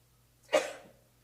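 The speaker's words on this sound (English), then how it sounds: "I'm gonna sneeze" A single short, sharp sneeze-like burst up close, quickly fading into breath, with quiet around it.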